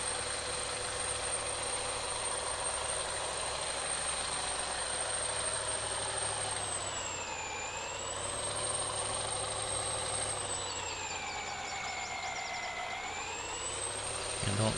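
Engine of a logging vehicle in Farming Simulator 19 running under steady throttle, a continuous droning tone that dips and rises in pitch twice, loud and alone.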